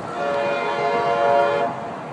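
A train horn blares in one long, loud, steady chord held for about two seconds before easing slightly, with a rumbling undertone beneath it.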